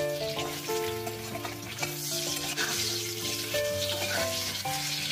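Potatoes frying and sizzling in oil in a pan, a steady close crackle with occasional stirring scrapes, no voices.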